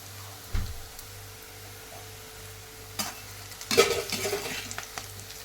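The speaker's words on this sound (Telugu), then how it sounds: "ఇంకా అన్నం వంచేసిన తర్వాత కాకరకాయ ఫ్రై చేసేస్తున్నాను అనమాట" Bitter gourd fries in a pan with a soft, steady sizzle, broken by spatula stirs and a louder clatter of scraping near the end, with no voices.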